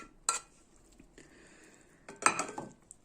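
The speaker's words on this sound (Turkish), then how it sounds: "Bu şekilde ezerekten karıştırıyoruz." Spanish tortilla mixture is mashed and stirred in a bowl with a utensil, giving two clusters of quiet clinks and scrapes against the dish, separated by near silence.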